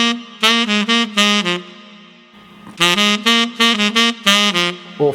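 A saxophone plays a short, punchy rhythmic phrase of detached repeated notes, a quick pattern, then a brief pause, then a longer answering run, clear, close and unaccompanied.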